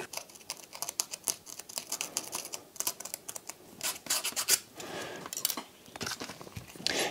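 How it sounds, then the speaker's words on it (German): A wooden skewer scratching grooves into a model concrete pit wall for a slot-car track: irregular bursts of close, dry scraping and scratching strokes, alone without talk. "ich gehe einfach mit dem Schaschlikstäbchen drüber, mache ein paar Kratzer rein in den Beton"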